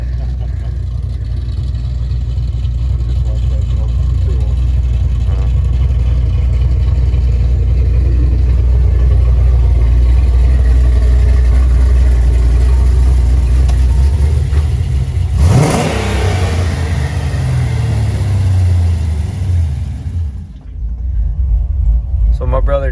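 A Late Model race car with an LS engine, running on E85 and fitted with mufflers instead of straight pipes, holds a loud, deep idle and rev for a long stretch before dropping away; a voice speaks over the engine.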